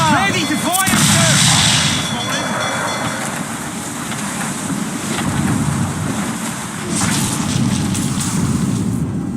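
Ship cannons boom in a naval battle in Assassin's Creed 4, the heavy blasts blending into a dense, continuous rumble of gunfire, wind and sea, with shouting voices over the din.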